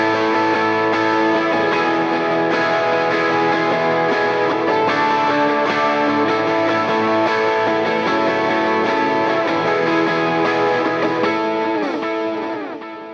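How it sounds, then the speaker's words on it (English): Electric guitars playing high inversion chords over low open chords for a worship song, a dense, continuous strummed wash with chorus-like effects, loud and sustained throughout with no talking. "So with the higher strung parts that I'm playing, along with the open chords that Timon is playing down low, this is what it sounds like"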